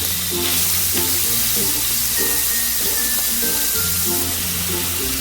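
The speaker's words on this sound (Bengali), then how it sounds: "এবার আমি দিয়ে দেবো চিংড়িগুলো চিংড়িগুলোকে একটু জাস্ট কয়েক সেকেন্ড একটু ভেজে দেবো" Shrimp hit hot oil in a pan for a kochur loti recipe, with a loud, constant sizzle and hiss close up and a few stirring clatters over it.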